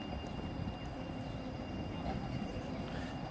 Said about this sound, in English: The trams, right?